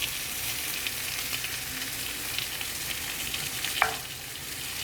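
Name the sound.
butter sizzling on a hot griddle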